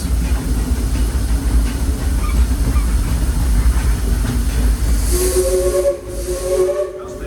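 Disneyland Railroad steam train pulling into New Orleans Square Station, loud continuous steam hiss and rumble, then a drawn-out steam whistle blowing in two close tones near the end.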